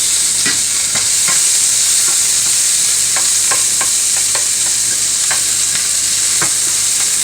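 Mushrooms and onions fry in an overly hot pan, giving a loud, steady sizzle broken by scattered clicks and scrapes of stirring, with no voices.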